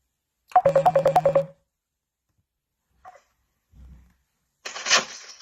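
A phone call placed over a speakerphone starts with a rapid run of about eight evenly spaced dialing tones, then goes quiet apart from faint brief sounds, and a ring begins near the end.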